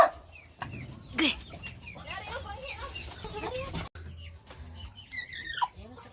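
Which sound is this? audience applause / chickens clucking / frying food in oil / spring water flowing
chickens clucking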